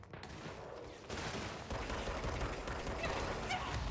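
Enemy gunfire aimed at the player in the video game Control: rapid rattling shots crackle steadily and fairly loudly, growing heavier after the first second.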